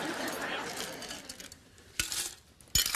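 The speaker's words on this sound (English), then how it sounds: "we're going to get quite a bit of ice inside of the pitcher" Ice cubes clatter and rattle into a pitcher, followed by a couple of sharp clinks, close up and moderately loud.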